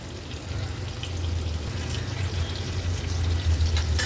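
A surmai kingfish slice fries on a griddle with a steady, close hiss and crackle that holds for the whole stretch, with no voices.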